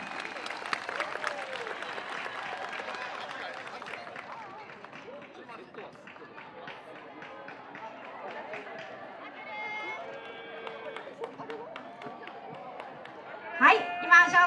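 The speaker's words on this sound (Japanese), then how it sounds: "皆様大きい拍手お願いいたします。" Applause from a festival crowd for a dance team at an outdoor Tohoku dance festival, moderate clapping that thins and fades over time while people chatter, with a brief louder burst of sound near the end.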